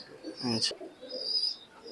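A high-flying pigeon of an imported bloodline gives a short burst of cooing up close, then a softer trailing call, with a thin high chirp afterward.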